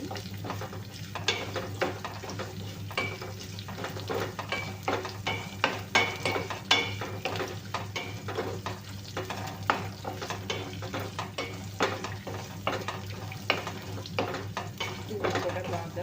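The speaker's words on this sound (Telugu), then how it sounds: "కూడా బాగా ఫ్రై చేయాలి." Neem flowers and drumstick leaves frying in a pan, a continuous close sizzle with constant crisp scraping and stirring clicks throughout, over a low steady hum.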